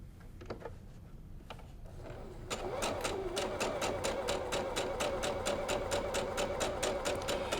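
Sewing machine stitching along a marked line on a quilt top, a few soft taps then a steady fast rhythmic whirring run of stitches, quiet and close with no talking.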